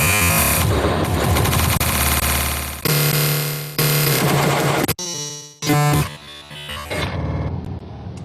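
Random cuts from an old music remix, processed through a granulator, form a loud, chaotic stream of choppy, stuttering electronic fragments with abrupt cuts, brief gaps and tonal bursts.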